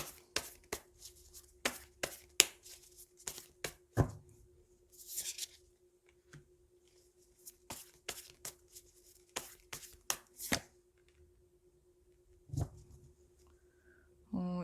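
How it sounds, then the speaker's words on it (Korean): Tarot cards are handled, shuffled and drawn in a series of crisp, close, papery flicks and slaps at an irregular rhythm, with quiet gaps between bursts. "그럼 1번 솔로 여러분들을 위한 추가 카드를 더 뽑아보도록 할게요"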